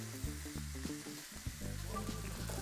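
A hogget shoulder sears in a hot tray, a soft steady sizzle with occasional shifting and scraping as it is moved around, faint and close with no talking.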